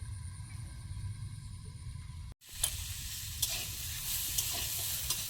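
Ridge gourd and potato pieces frying in a pan after the lid comes off, a steady close sizzle with occasional stirring scrapes, following a brief quieter covered stretch.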